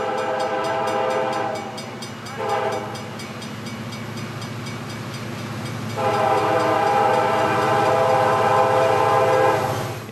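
A very long freight train, well over 10,000 feet, rumbles steadily past a grade crossing in Clinton, Massachusetts, its loud horn sounding in blasts over the continuous rolling rail noise close by.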